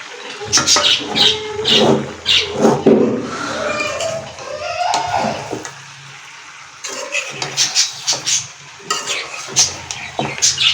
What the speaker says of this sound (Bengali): তো সুন্দর করে নেড়ে চেড়ে নিচ্ছি।